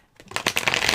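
A quick riffle of tarot cards being shuffled, close and crisp, rising from near silence into a dense papery flutter for about a second.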